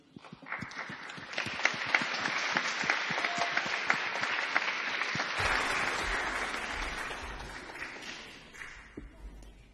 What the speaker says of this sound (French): On peut applaudir Emma